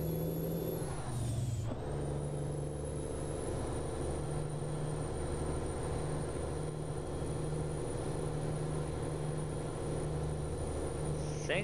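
A steady, droning truck engine in the game American Truck Simulator hums continuously at a constant pitch, with a brief hiss-like air release near the start.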